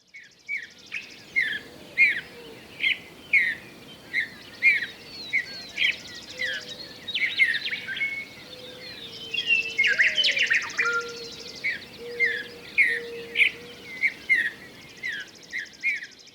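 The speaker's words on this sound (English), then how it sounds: "that was a recording that Matt made of birds at dawn" Birds sing at dawn on a prairie, repeating short bright chirping phrases in a steady rhythm, with a second bird joining midway over a quiet, low background hum.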